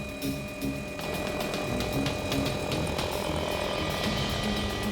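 Helicopter in flight over Kodiak bear country, a continuous droning rotor and engine hum with a steady pulsing beat, loud and close as from inside the cabin.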